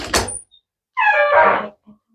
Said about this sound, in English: That door is squeaky as hell.